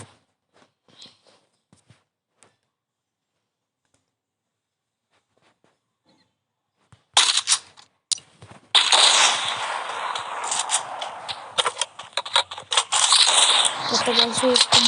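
Bursts of gunfire from a shooter video game break out after a long near-silent stretch, with loud sharp shots and rapid firing continuing to the end.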